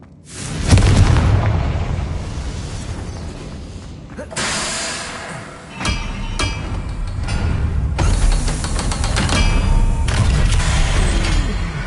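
A Confringo fire spell blasting in the video game Hogwarts Legacy, a sequence of loud, booming explosions with crackling bursts and rumbling tails, dense game combat noise and voices mixed in throughout.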